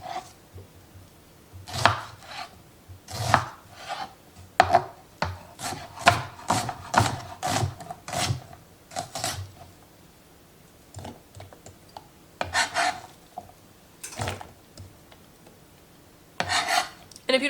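Four medium onions hand-chopped with a knife for homemade salsa: rapid, irregular, crisp chops in quick bursts separated by short pauses, close and clear with no talking.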